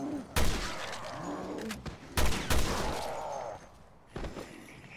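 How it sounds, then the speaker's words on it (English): Rifle gunfire in the video game Resident Evil: Revelations 2: a few loud, sharp shots at spaced intervals, each a broad burst that rings out over low game ambience, with no talking. "I'm shooting with a rifle with 100 bullets, man."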